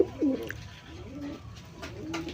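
Pigeons, both local and foreign breeds, coo softly in a few low, rolling calls. They are heard alone and close, against faint background noise.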